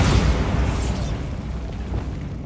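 Bombarda spell explosion in Hogwarts Legacy, a loud close boom with a bright burst up front followed by a rumbling, crackling decay that lingers for about two seconds.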